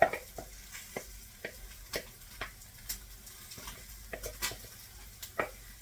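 Baked beans are dumped into a pan with Spam, heard as a series of quiet, irregular spoon taps and soft wet plops over a low, faint background sizzle, with no voices.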